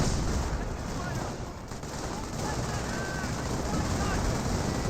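Rocket grenades and mortar fire in a Company of Heroes match, heard as a dense, continuous wash of battlefield blasts and gunfire at steady loudness with a brief dip midway, under a commentator's voice.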